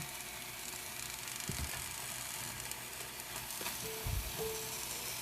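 Mushrooms frying in a pan for a keto chicken dinner give a faint, steady sizzle with a couple of soft scraping stirs.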